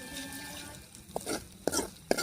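Spoon scraping and stirring roasted onion paste into a curry of goat head in a pan, with three short wet scrapes standing out over a low background hiss.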